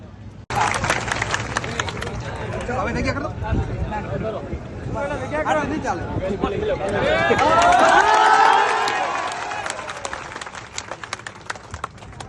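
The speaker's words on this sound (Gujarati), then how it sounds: "તાળીઓના ગગડાથી સ્વાગત" Crowd applause and cheering swell from a large political rally gathering, peaking partway through, with shouting and babble mixed in before tapering off.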